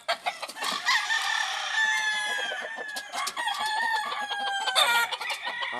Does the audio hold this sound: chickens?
yes